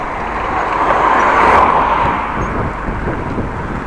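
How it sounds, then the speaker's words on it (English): A car passes on a road in Appingedam, a steady broadband rush that swells toward the middle and then fades as it goes by, with no talk. "Cars on my part of the road"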